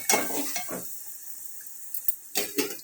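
A spoonful of ginger frying in a pan is stirred in short scraping bursts at the start and end, with a quiet stretch of faint hiss between them.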